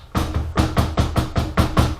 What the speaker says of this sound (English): we will just start mixing this on low.